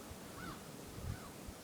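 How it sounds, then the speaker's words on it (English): Faint bird calls sound twice, thinly, over the low rush of wind outdoors after a heavy snow blizzard, with a few soft low thumps and no talking. "Just the birds."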